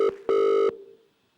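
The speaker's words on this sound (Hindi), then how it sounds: "जहां प्रिंस करेंगे एक लाइव फोन कॉल एक मिनरल वाटर सप्लायर को।" A telephone rings for an outgoing phone call, two electronic ring bursts, a short one then a longer one, loud and clean with no talking, fading into quiet.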